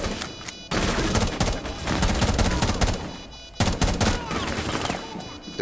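Rapid, loud gunfire from Rainbow Six Siege, sustained automatic bursts filling nearly the whole stretch with only a couple of brief gaps, up close and without talk.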